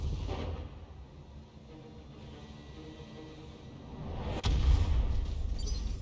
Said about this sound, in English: we drop a Thumper Cannon